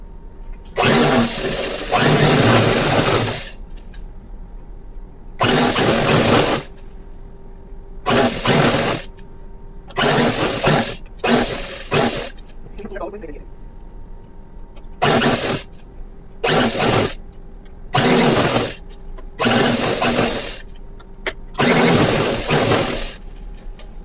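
A sewing machine stitches fabric in half-inch seams, running in about a dozen short, loud, close bursts separated by quiet pauses.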